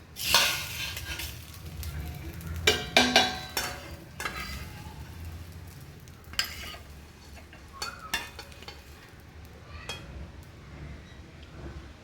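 Scrambled egg scraped out of a frying pan onto a plate, with clinking and scraping of a utensil against the pan, a light sizzle, and scattered metallic knocks over twelve seconds.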